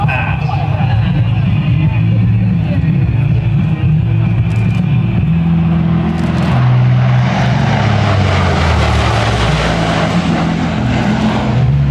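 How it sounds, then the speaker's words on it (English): Blue Angels C-130 transport aircraft known as Fat Albert making a low-altitude, high-speed flat pass at about 370 mph during a Navy homecoming airshow, a loud continuous propeller-engine roar that swells steadily while a commentator speaks over a public-address system. "From the left, at 370 miles per hour, the Fat Albert Flat Pass."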